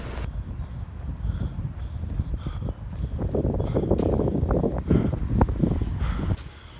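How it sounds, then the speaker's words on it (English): Strong wind on an outdoor run, buffeting the microphone in rough low gusts that swell louder in the second half, with scattered thumps and knocks mixed in and no clear talk. "Oh, it's really windy right now."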